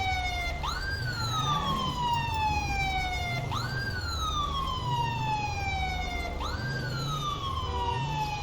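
Ambulance siren in the video game GTA 5 wails in three repeated rising-then-falling sweeps, fairly clear over a low, pulsing engine rumble, with no one speaking.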